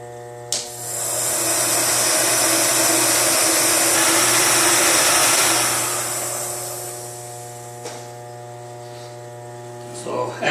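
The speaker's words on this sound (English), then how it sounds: "I would use the torch or a heat gun to dry the surface, dry the sodium silicate" A heat gun blows over a sodium silicate surface to dry it, its loud, airy roar running for about five seconds before it shuts off and winds down, leaving a steady mains hum with a few brief clicks.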